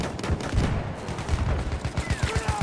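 Battlefield 1 gunfire: rapid, close automatic bursts crackle in quick rhythmic succession, loud and continuous, with faint battlefield noise behind them.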